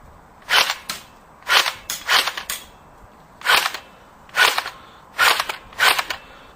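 M85 airsoft gun firing semi-automatic, seven sharp snappy shots in irregular pairs and singles spread over several seconds, close and crisp against a quiet background.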